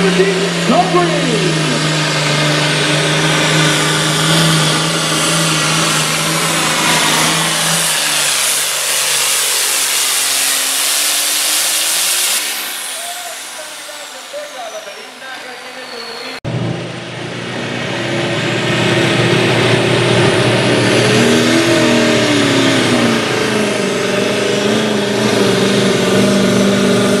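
Pulling tractor engine revving hard at a county fair tractor pull, a loud sustained roar that rises in pitch, drops away briefly mid-run, then surges back up, with crowd and announcer noise underneath.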